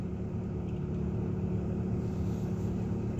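A car drives steadily along the road, its engine and road rumble forming a constant low drone with no breaks or talk throughout.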